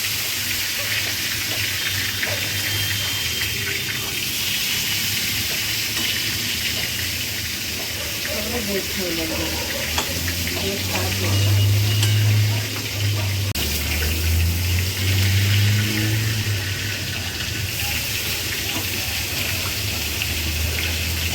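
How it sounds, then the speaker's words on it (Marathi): Masala-stuffed brinjals sizzling in hot oil in a pan, a steady loud hiss and crackle of frying that continues throughout with slight swells. "ही तेलात अशी मसाला भरलेली वांगी सोडलेली आहे फक्त फ्राय करण्यासाठी"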